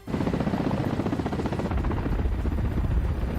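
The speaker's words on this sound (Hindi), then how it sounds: "हेलीकॉप्टर दुश्मन के इलाके में हमले के लिए उड़ान भरता दिखाई दिया" A military helicopter lifts off in a war zone, its rotor thudding in a dense, steady, rapid chop with a broad rushing roar, loud and close for the whole stretch.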